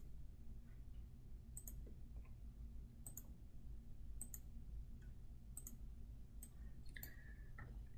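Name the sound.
computer mouse click to run a simulation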